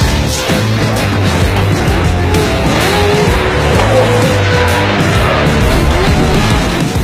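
Pro 4 four-wheel-drive trophy trucks racing on an ice course at Red Bull Frozen Rush in Maine, loud roaring engines with tire squeal and skidding, sustained and close throughout.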